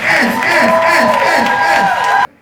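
At The Roundhouse, a crowd at a live music show cheers, whoops and claps in a dense, loud burst that carries a sustained vocal tone and cuts off abruptly near the end.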